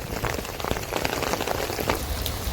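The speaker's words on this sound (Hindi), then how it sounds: "ये देखो पानी हो गया है और बहुत ज़्यादा जोरों की बारिश लगी है" Heavy monsoon rain pours steadily over a flooded village and waterlogged fields, a dense, continuous hiss of drops close by with no voices.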